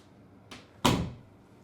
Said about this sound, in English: So I'm gonna close this door.